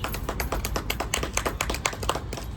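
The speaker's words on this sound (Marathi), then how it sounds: "टाळ्या वाजवा, टाळ्या वाजवा." A group of people clapping their hands at a late-night gathering, a quick run of sharp, fairly even claps close by, fading in and out over a low background hum.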